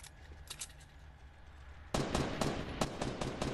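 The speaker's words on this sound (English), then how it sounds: "Who the fuck is shooting?" Gunfire in the video game Fortnite, a burst of rapid cracking shots that starts suddenly and runs loud and close to the end, after a quieter stretch with a few faint pops.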